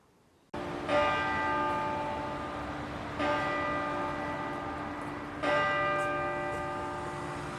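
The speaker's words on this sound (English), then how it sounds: "what a beautiful church that is, just chiming the hour, 11 o'clock" A church bell in Crediton chimes the hour at 11 o'clock. Three loud, slow strikes ring out clearly, each followed by a long shimmering decay, with no voices.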